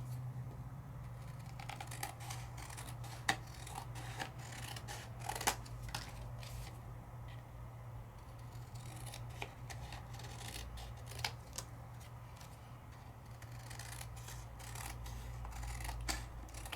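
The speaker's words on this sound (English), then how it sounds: "I can trim it out." Scissors trim stamped craft paper in a steady run of soft, quiet snips and paper rustles over a low steady hum, with no talking.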